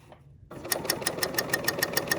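A cover stitch sewing machine runs fast through a fabric tote bag, its needle chattering in a quick, steady rhythm of bright clicks after a brief quiet start, close and fairly loud.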